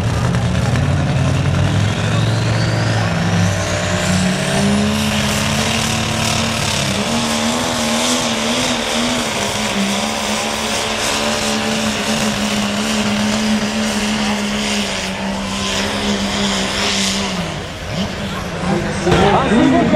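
A heavy-class pulling tractor with an IH 560 engine, single turbo running on alcohol, roars loud and close for the whole stretch, its engine note rising and holding under announcer talk.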